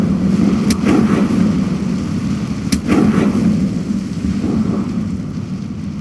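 A Confringo blasting spell cast in the wizarding game Hogwarts Legacy: two sharp, bright bursts about two seconds apart, each followed by a rumbling roar over a steady low ambient drone.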